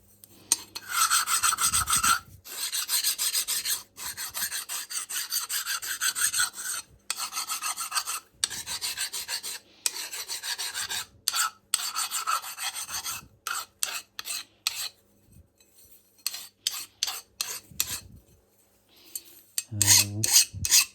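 A metal file rasps in short repeated strokes against the edge of a Juuma No 4 bench plane, easing a slight chamfer; the strokes come in loud bursts separated by brief pauses, with a final clunk at the end.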